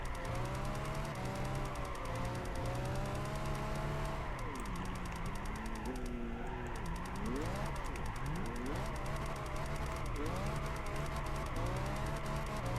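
A Nissan Skyline drifts in Gran Turismo 5, the engine loud and continuous as it revs up and down through repeated swooping pitch changes under constant tyre noise, with no talking.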